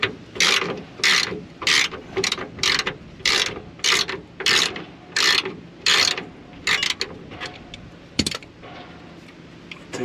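A ratchet wrench loosens a nut on the rear shocks of a 2000 Ford F-250, with a steady run of close, loud ratcheting bursts followed by a sharp metallic clink and quieter handling.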